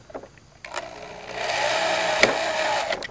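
Flat end screws are driven into the female ends of skateboard truck hardware on a 1987 Powell Peralta Caballero setup: a close, steady whirring drill buzz that rises after a few faint clicks and runs on with one small knock.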